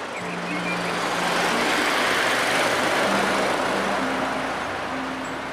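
A tanker truck rumbling past with a loud, continuous broadband roar of engine and road noise, steady in level with faint tonal engine hums running beneath.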